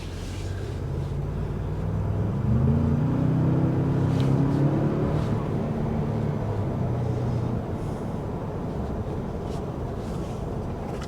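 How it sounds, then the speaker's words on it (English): A 2025 Ford Expedition King Ranch accelerates hard on the road, its engine a low rising drone that climbs in pitch over several seconds inside a quiet cabin, steady and moderately loud with road and wind noise underneath. "The real sound that you get when you're driving is the motor when you step on it"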